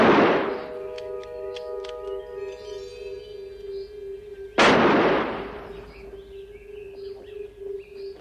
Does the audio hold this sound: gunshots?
yes